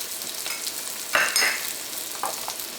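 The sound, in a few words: onion, crushed garlic and ginger frying in hot coconut oil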